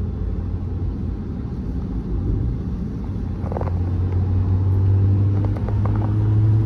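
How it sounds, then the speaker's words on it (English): A car in the Scottish Highlands along the NC500 gives a steady low rumble that swells and passes nearby, heard alone without talk. "There's a car there."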